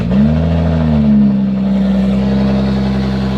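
A BMW 435i engine fires up and runs loud and steady, its strong low rumble settling from a brief flare into an even drone, close by with no talk over it.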